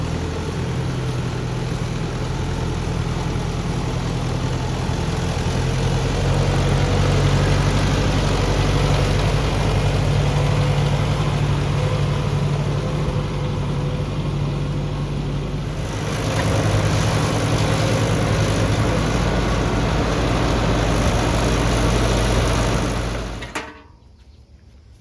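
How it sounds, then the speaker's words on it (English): A tractor engine runs steadily on a homestead during chores, a loud, continuous low rumble that swells slightly midway and cuts off near the end. "So I'm gonna use the tractor just to kind of move some stuff around"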